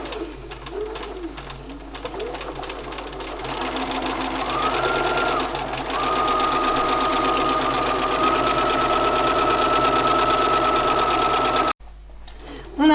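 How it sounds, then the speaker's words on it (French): Sewing machine stitching the crotch seam of a garment, a close, loud, steady whirring drone that speeds up midway, runs on evenly, then cuts off abruptly near the end. "Je commence bien sur ma couture qui est au niveau de l'entrejambe"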